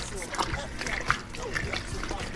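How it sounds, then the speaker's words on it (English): A pot of rice and beans with chicken is stirred, with soft sloshing, splashing liquid and scraping under a person talking close by. "Give it a good stir."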